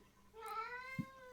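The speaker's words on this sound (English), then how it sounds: "That was a cat." A single cat meow, short, rising and then falling, followed by a soft low thump, heard alone against a quiet room.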